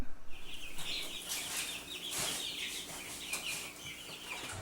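Young chicks about four and a half weeks old, moving from a brooder to a coop, cluck and peep in a soft, continuous chatter with no voices.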